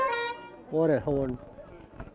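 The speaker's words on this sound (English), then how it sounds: "What a horn." A car horn on a modified, lowered rat car with headers and a turbo blares in a short toot followed by a longer bending honk, with people talking nearby.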